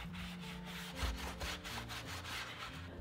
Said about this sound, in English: you definitely want to have a good stiff wax brush because it's going to allow you to get down into the nooks and crannies